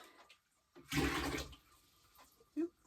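Bucket of water dumped back into a lake at an off-grid cabin in autumn, one brief loud splash and gush lasting about half a second, followed by a small second slosh, otherwise quiet.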